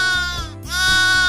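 A goat bleats once in a children's phonics song, a loud, close, wavering cry with a short break in the middle, standing alone.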